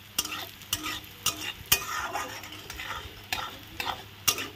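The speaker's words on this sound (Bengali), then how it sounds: "মুগ ডালটা আমি ভালো করে তেলে ভেজে নেব" Mung dal frying in oil in a pan, rhythmic spatula strokes scraping and clacking every half second or so over a light sizzle, close and clear, no talking.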